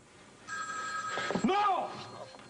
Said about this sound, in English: I just want to answer the phone.